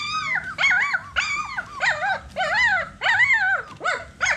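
Phu Quoc dog whimpering: a close, loud run of high, wavering whines and yelps that rise and fall in quick bursts with short breaths between, alone without talk.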